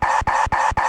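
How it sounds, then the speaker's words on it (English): A short chopped vocal sample in a trap metal track stutters four times in quick succession, each repeat cut off abruptly for a choppy, glitchy rhythm. "because what I did is I chopped it up and made this glitchy sound"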